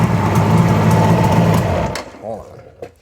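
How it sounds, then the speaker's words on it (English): A Suzuki GT750 motorcycle engine idles with a buzzing, steady throb for about two seconds before it drops away, followed by a brief spoken voice. "Yeah, it's idling all right."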